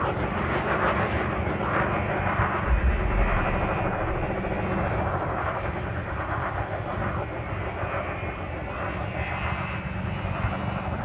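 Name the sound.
spaceship engine accelerating in Elite Dangerous video game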